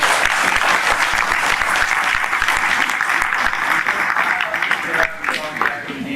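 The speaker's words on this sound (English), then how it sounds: "So round of applause for him." A lecture-hall audience at MDI, Gurgaon gives a speaker a round of applause, dense, loud clapping that runs continuously before thinning slightly toward the end.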